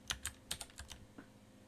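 A keyboard shortcut tapped on a computer keyboard, about seven quick, faint clicks in an uneven cluster followed by one last keystroke, with nobody talking.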